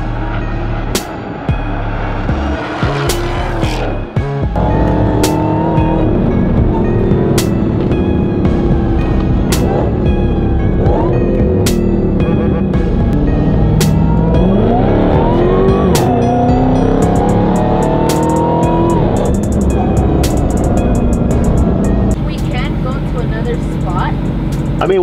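A car making flyby passes for filmed scenes, its engine revving and swelling as it drives by, with tire noise and sharp bangs over a constant loud rumble, while people talk throughout.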